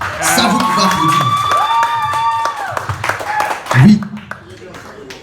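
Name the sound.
audience applause and cheering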